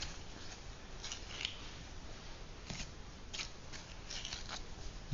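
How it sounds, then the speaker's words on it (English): Shears cut the castors off a beaver carcass, making a handful of quick, crisp snips against a dull, muffled handling noise, fairly quiet and close. "you can twist them off or cut them off with the shears"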